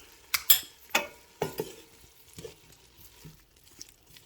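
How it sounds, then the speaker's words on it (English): A spoon stirs a pot of Italian lentil soup, giving a few sharp scraping clinks at first, then softer wet stirring sounds that fade out, close and with no talking. "And then give it a good stir."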